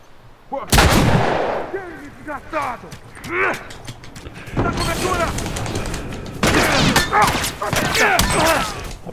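Repeated gunfire from a shooter in The Last of Us, loud close bursts and volleys spread across the clip, with brief gaps and some game background noise between them.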